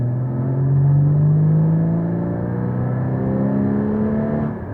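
A 2015 Porsche Cayman GT4 engine accelerates in third gear on a public road, a loud close rising drone that climbs steadily in pitch and eases slightly at the end.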